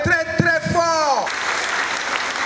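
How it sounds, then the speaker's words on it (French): An audience applauds and cheers a top student at an award announcement, a dense burst of clapping that rises and holds right after a voice speaks over a rising musical tone. "Et je vous demande de l'acclamer très très fort"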